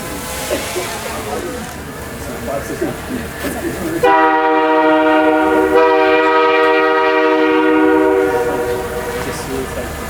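CN locomotive 8357 sounds a long, loud multi-chime horn blast close by as it moves to the front of a depot, following rumbling engine noise; a voice is heard beforehand.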